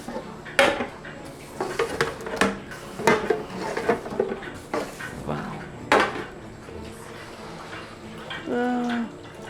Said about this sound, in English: We take pans and oil them like so that way the dough doesn't stick.